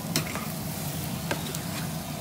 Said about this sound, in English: So we're gonna give this a stir.